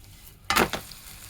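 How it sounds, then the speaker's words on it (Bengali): Egg and cabbage batter frying in a pan gives a short, sharp sizzle burst as it is flipped, then fades to a faint crackle. "এখন এই পিঠটাও কিন্তু আমি এইভাবেই ভেজে নিব"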